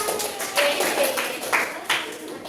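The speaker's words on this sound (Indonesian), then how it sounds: "Boleh kita tepuk tangan buat" Clapping in a classroom during a microteaching lesson: a few sharp, uneven bursts of hands clapping, fairly close, with children's voices underneath.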